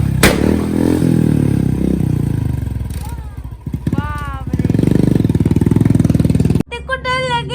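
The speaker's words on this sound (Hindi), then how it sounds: "फोड़ रहे हैं वो यहाँ पर बुलेट से पटाखे।" A Royal Enfield Bullet motorcycle runs with a rough, clattering engine and sharp firecracker-like backfire pops near the start and end, while voices talk over it throughout.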